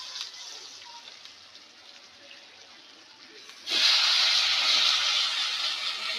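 Brinjal curry tempering in hot oil in a pan on a village cooking fire gives a soft steady hiss that suddenly jumps into a loud, bright sizzle and keeps going.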